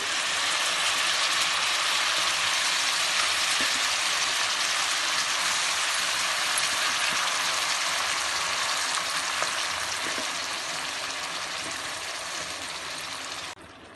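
Fenugreek leaves fry in melted butter with a loud, steady broadband sizzle that holds for the whole stretch and drops away at the very end.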